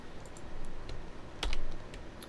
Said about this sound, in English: you want to press on your keyboard Alt and P